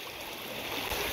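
A stream flowing over slippery ground during magnet fishing: a steady, close rush of running water, broad and even throughout, with no talk.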